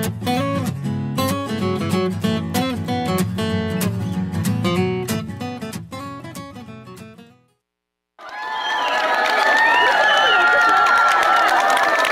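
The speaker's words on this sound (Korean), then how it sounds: "새사제 탄생을 기뻐하는 수원교구 신자들의 환호성입니다" Catholic faithful of the Suwon diocese cheer for thirteen newly ordained priests. Tonal music fades to a brief silence, then a loud, sustained roar of crowd cheers and shouts with applause takes over.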